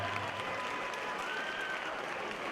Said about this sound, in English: Everyone give a round of applause for Javier, the Honey Badger Trujillo